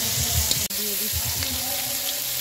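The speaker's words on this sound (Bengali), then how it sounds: "দিয়ে ভালোভাবে মাংস দিয়ে কষিয়ে নিচ্ছি" Chicken pieces and spices sizzle in a pan while being stirred for chicken biryani, a steady frying hiss with soft clatter, a brief sharp knock partway through and a voice talking faintly underneath.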